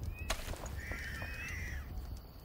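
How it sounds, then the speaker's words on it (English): A bird caws in the video game Enshrouded, a few harsh nearby calls over quiet ambient background with a soft thump near the start. "This bird needs to chill out,"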